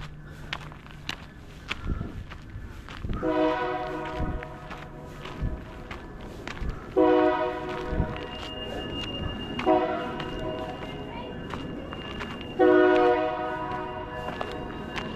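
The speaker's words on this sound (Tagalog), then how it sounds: "Lakas ng tunog ng ano nila. Train, busina." A loud, harmonic train horn blasts four times in long bursts, close by, over rumbling rail noise and scattered footsteps, in Skagway, Alaska.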